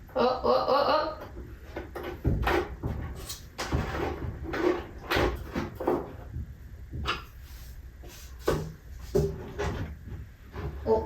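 A DIY plywood cabinet door opens and closes with several sharp wooden knocks and clacks at irregular intervals, close by, mixed with short bursts of other handling noise.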